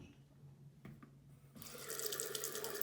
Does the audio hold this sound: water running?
yes